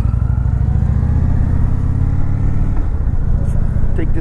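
A 2019 Indian Chieftain Dark Horse motorcycle rumbles steadily and loudly up close while being ridden, a deep continuous engine drone with slight shifts in pitch, and a voice talks faintly beneath it.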